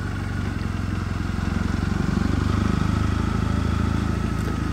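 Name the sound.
Triumph Bonneville motorcycle engine at low revs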